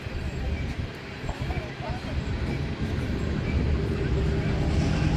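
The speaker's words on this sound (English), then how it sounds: "And we got another train coming" A train passes near a car show in Strasbourg, a broad rumbling roar that grows steadily louder over several seconds, with a little talk mixed in.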